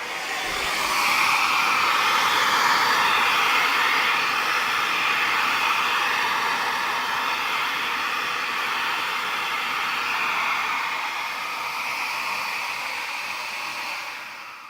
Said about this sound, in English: And if I turn the shop vac on,